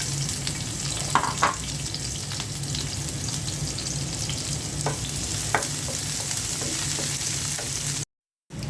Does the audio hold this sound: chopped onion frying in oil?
yes